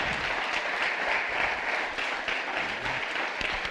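A church congregation claps steadily in a dense, sustained round of applause that fills the room throughout, with no voices rising above it.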